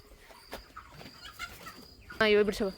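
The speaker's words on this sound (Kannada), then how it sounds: "ನಾವು ಇವಾಗ ಕೋಳಿ ಫಾರ್ಮ್ ಗೆ ಬಂದಿದ್ದೀವಿ" Chickens cluck and squawk at a poultry farm, with a louder burst of clucking near the end over a low background murmur.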